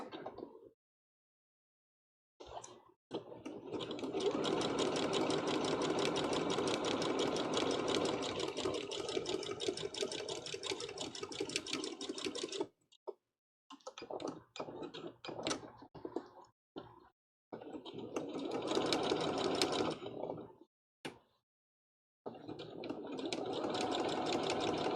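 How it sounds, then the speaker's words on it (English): A sewing machine stitches appliques onto a One Piece Big Mom Jolly Roger cosplay flag, running in long steady bursts with a rapid mechanical whir, pausing briefly between passes, close and loud with no talk. "Stitching over some of our appliques with more appliques."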